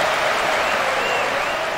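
Brief burst of stadium crowd cheering and clapping in an eFootball PES 2023 Ligue 1 match between FC Nantes and Olympique Lyonnais, a loud, dense, steady roar.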